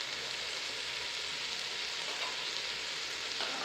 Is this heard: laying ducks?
no